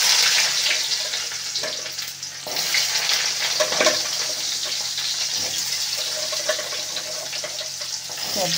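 Mixed vegetables frying in oil left from frying cauliflower, a continuous loud sizzle and bubbling close by with occasional stirring scrapes, no one talking.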